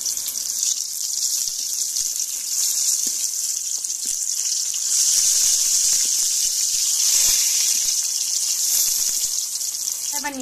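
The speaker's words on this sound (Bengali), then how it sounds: "আমি বেগুন ভাজাগুলো একটু উল্টো পাল্টে দিব।" Fried eggplant slices sizzle steadily in a pan, a continuous bright hissing fry that swells slightly midway as the pieces are turned, with faint scrapes underneath.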